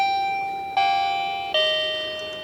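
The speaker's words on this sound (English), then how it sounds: "Like your old normal doorbell." Two-note electronic chime from a wireless driveway motion alarm, like a traditional doorbell, a high tone stepping down to a lower one, then the lower tone sounding again, clear and ringing with slow decay.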